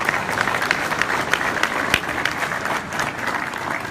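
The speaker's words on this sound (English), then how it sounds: "We have one more round of applause." Sustained applause from a conference audience after a session on the opioid epidemic, a dense, even patter of many hands with a few sharper claps standing out, fairly loud and unbroken by talk.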